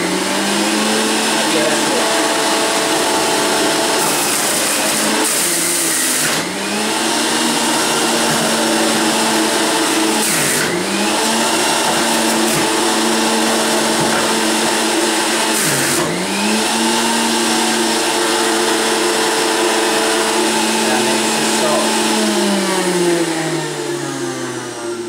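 A Breville Juice Fountain Elite centrifugal juicer runs on high, a loud steady motor whine that dips and rises in pitch several times as the load changes, continuous throughout.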